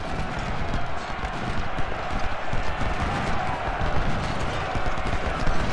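Galloping horse hooves in a Union cavalry video game battle, a fast continuous drumming of hoofbeats close by, mixed with rumbling battle noise and a voice talking over it.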